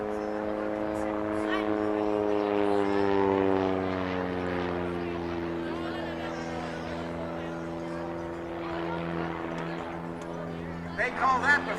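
A Pitts S1S aerobatic biplane engine at an air show drones steadily with a strong harmonic hum that shifts pitch as power changes, continuous and fairly close, with an announcer's voice talking over it.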